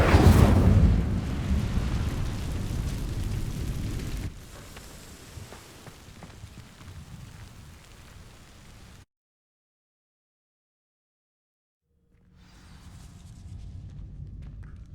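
An Incendio fire spell igniting dry vines in Hogwarts Legacy: a loud whooshing burst of flame that settles into a roaring crackle, fades, drops to silence, then gives way to quieter ambience.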